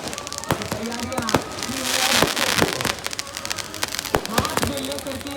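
Fireworks display at a mela fair at night, scattered sharp crackling bursts and pops, some close and some distant, with crowd voices and chatter throughout.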